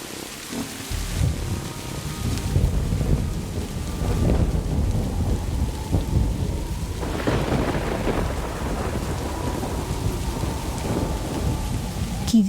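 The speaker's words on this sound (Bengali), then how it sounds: "কি যে বৃষ্টি শুরু হলো," Heavy rain pours down steadily and loudly while thunder rumbles and cracks through the storm, with no voices.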